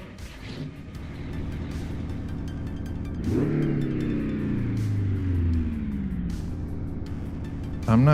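A rough, heavy engine of a 1970s Fleetstar 2070A logging truck in a video game idles low, then revs up with rising harmonic whine and settles back, loud and close, with no voices.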